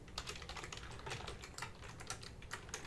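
Computer keyboard typing while entering commands at the Windows command prompt, a steady run of quick key clicks with no talk over it.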